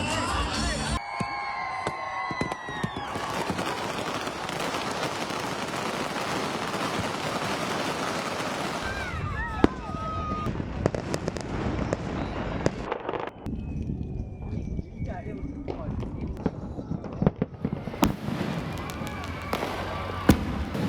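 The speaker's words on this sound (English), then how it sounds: "Sri Lanka was illuminated by fireworks as citizens gathered to welcome the dawn of the year 2026" Fireworks crackle and burst almost without pause at New Year 2026 celebrations in Colombo, Sri Lanka, with a whistling rocket and a distant crowd cheering underneath, then the blasts thin out near the end.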